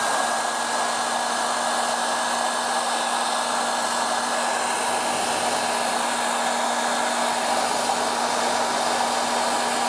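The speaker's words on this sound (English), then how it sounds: "So I'm going to get the hairdryer and let's test it." A hair dryer blows steadily and loudly for the whole stretch, aimed at a heat detector during a fire system test, with a constant whine and a low hum tone and no talking.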